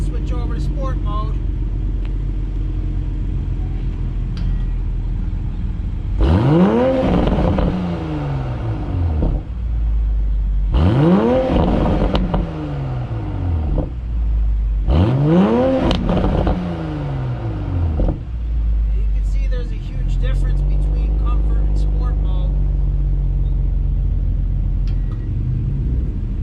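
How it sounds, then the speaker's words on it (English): A 2020 Toyota Supra with an Eventuri carbon intake, in sport mode, revs three times from a deep idle, its exhaust sweeping up and dropping back with burbling, popping crackles on the overrun, loud and close. "There's a ton of burbles and crackles, which sounds really, really great."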